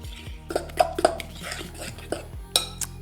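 A utensil scraping and clinking against a bowl while cake batter is mixed and sifted flour is added, giving several irregular close taps and knocks over a low steady hum.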